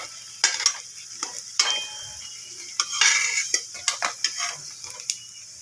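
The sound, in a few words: chira pakoda frying in oil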